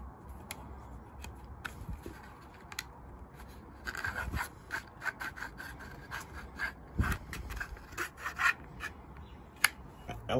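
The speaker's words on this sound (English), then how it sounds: "So just hold it closed, run that blade section through." A knife blade slides through a freshly pressed kydex sheath, giving a series of dry plastic rubbing and scraping strokes, close and fairly quiet, growing busier in the second half.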